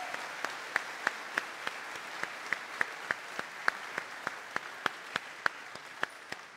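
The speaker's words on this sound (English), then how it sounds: "Let's give her a round of applause." Slow, sparse clapping from a small group in a church during Sunday Mass, even sharp claps repeating roughly every third of a second, moderately distant.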